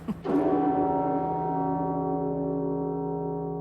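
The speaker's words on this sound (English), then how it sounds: "it's the only bell that we can hear clearly inside the building" Great George, a large church bell, struck once close by, its deep, loud clang ringing on in a long, slowly fading hum.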